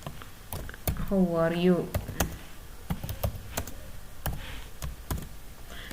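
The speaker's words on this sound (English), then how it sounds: "So this is a text I am typing." Keys on a computer keyboard tapped while typing text in MS Word: sharp, scattered clicks at an uneven pace, close and fairly clear, with a voice briefly speaking over the first part.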